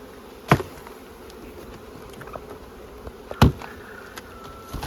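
Honey bees buzz around beehive nucs as they are boxed, a faint, steady hum with two sharper, louder buzzes as single bees pass close.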